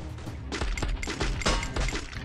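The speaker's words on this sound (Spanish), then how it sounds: "Voy a disparar para que venga el coche" Rapid bursts of video game gunfire, repeated sharp shots in quick succession, loud and close with a dense, crackling texture.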